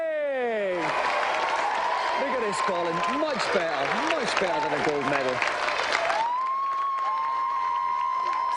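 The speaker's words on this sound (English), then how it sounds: "let's have another round of applause" A studio audience applauds steadily on the Gamesmaster TV game show, with someone speaking over the clapping before it fades into lighter background noise.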